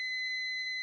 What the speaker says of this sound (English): is that the buzzer?